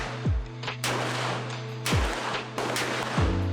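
Gunshots ring out at a shooting range in Ho Chi Minh City, Vietnam, as a shooter fires at a target: several loud, sharp reports spaced irregularly, each with a short decaying echo.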